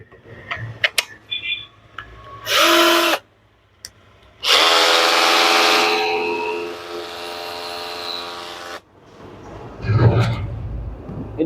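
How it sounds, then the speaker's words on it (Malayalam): A cordless hammer drill runs in two bursts, a short loud whir and then a longer steady buzzing run of about four seconds that slows before stopping, with clicks and handling noise around it. "hammer drill,"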